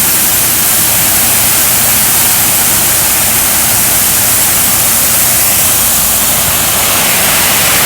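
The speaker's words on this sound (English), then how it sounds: "A waterfall of stones." A load of stones pours from a delivery truck onto ground at a chateau frontage, a loud continuous rushing roar of gravel sliding down for several seconds.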